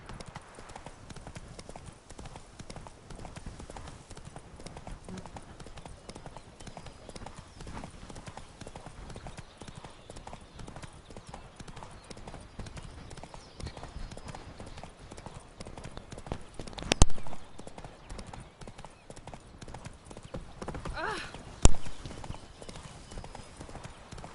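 Horse hooves clip-clop at a steady trotting rhythm while riding in The Witcher III, constant and moderately close, with a couple of louder knocks near the end and no speech.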